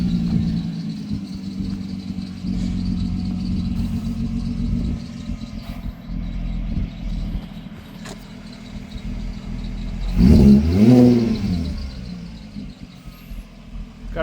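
A 3.2-litre VR6-swapped Mk2 Volkswagen Jetta coupe engine idles and rumbles steadily up close, then revs up with a rising whine before settling back down.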